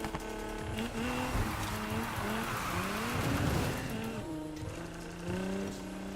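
Car drifting in Need For Speed Heat, with a high-revving engine whining and shifting pitch while tires squeal in sustained skids, loud and continuous throughout with no talk.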